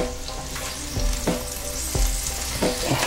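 Shallots fry in a pot with a steady, close sizzle, broken by a few soft knocks of stirring at irregular moments; no one speaks.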